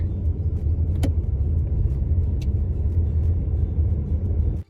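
A car drives along a road, heard as a steady, close low rumble of road and engine noise with a couple of faint clicks, and no talking.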